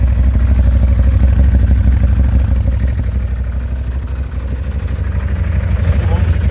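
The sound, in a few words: side-by-side vehicle motor noise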